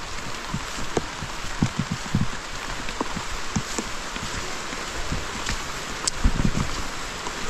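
Rain pours down steadily outdoors as a dense, continuous hiss, with scattered louder drops and patters landing on nearby surfaces at a moderate level.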